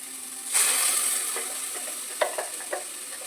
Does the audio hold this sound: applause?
no